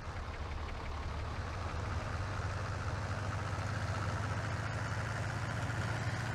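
A tractor engine in Farming Simulator 19 idles steadily with a low, even rumble that holds at constant loudness throughout, with no voices.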